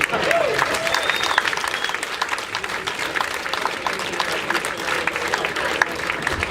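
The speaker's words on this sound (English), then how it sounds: "Big round of applause for Fred Kerr" A comedy club crowd at YukYuk's in Calgary claps and cheers after a stand-up set, a dense even roar of hands lasting the whole stretch, with a few whoops and voices mixed in.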